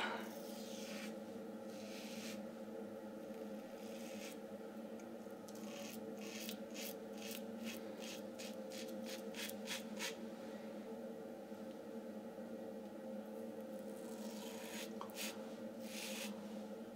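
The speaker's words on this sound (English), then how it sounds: "got a Lord Super Stainless blade inside of the Rockwell 6S. So let's start shaving." A Rockwell 6S safety razor with a Lord Super Stainless blade scrapes over stubble in short repeated strokes, a quick raspy series in the middle and a few more near the end, close but faint over a low steady background hum.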